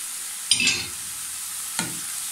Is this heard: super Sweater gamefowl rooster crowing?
no